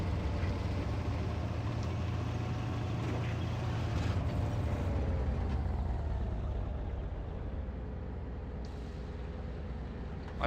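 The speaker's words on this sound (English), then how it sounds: "I thought I could hear an engine." Tank engine rumbling in War Thunder, a Panzerjäger I tank destroyer battle, a steady low drone throughout with faint mechanical hum and distant game ambience, no talk.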